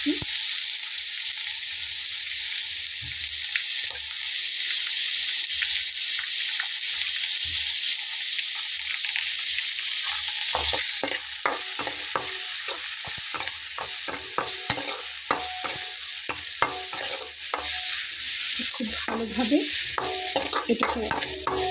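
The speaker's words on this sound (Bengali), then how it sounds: "এখন আমি টমেটো কুচিটা দিয়ে নিচ্ছি" Chopped tomato with onions sizzles steadily in a frying pan, with a spoon stirring and scraping in the second half that gives rapid clatters over the constant hiss.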